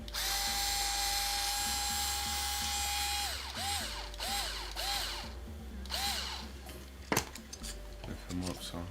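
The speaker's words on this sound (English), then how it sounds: "I just gotta drill this through." A power drill bores through an Ender 3 3D printer part, with a steady high motor whine that drops in pitch as it bites, followed by bursts of drilling, clicks and metallic clatter.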